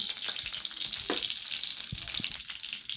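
Panch phoron, the Bengali five-spice tempering, sizzles in hot oil with a bright steady hiss and a few scattered pops and crackles, close up and without speech.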